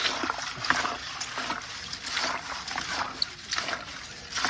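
Film dunked into a rinse bucket of water, giving soft splashes and trickling drips at close range, with faint handling noises and no speech.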